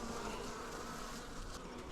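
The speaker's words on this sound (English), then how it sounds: "Got a couple bees I'm gonna have to wrangle out of here." Honeybees buzzing around an open Apimaye hive on a 67-degree winter day during feeding, a continuous close hum from many bees, steady and fairly quiet, with no speech.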